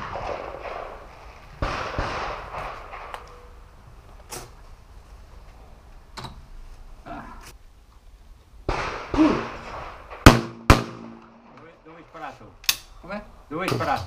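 Shotgun blasts at an outdoor clay target shooting range in Castel Goffredo, several sharp reports spread across the scene with people talking between shots.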